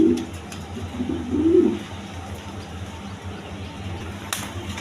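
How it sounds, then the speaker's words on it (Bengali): Pigeons coo in short, soft, throaty bursts close by in the opening seconds, then fade into a quieter hum of a pigeon loft with faint background noise and no talking. "দেখেন রেশার কবুতর।"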